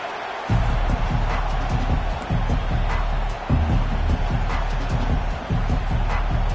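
Stadium crowd in EA Sports College Football, an Oregon Ducks game: a dense, steady roar of many voices swelling in waves throughout, with a commentator talking over it.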